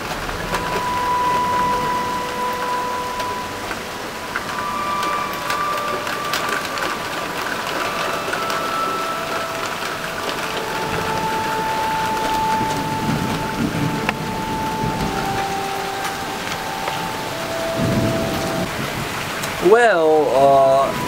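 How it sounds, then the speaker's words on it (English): Rain falls steadily outdoors, a continuous hiss of drops through the whole stretch, with faint tonal sounds and a brief louder burst near the end. "Well, it's raining, so yeah."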